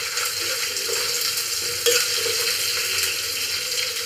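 Sliced onions sautéing in a pan for a Kerala-style fish head curry, a steady broadband sizzle with soft stirring scrapes throughout, close and continuous with no talking.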